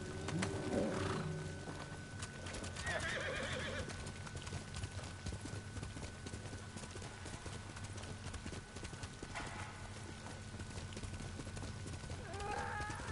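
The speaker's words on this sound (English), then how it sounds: "Here's my horse." In the video game Ghost of Tsushima, hooves clip-clop steadily while a horse neighs loudly at the start, with a few shorter whinnies and faint bird calls in the background.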